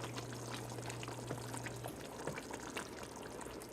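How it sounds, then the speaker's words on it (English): Canned tomato sauce pours into a pot of chili as a soft, steady liquid stream at low volume, with faint kitchen clatter and a brief background hum. "In goes some tomato sauce."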